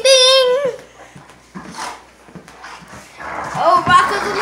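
Two dogs wrestle and play, yipping and whimpering amid scuffling and panting, with the sounds coming in bursts at close range and a person chattering throughout.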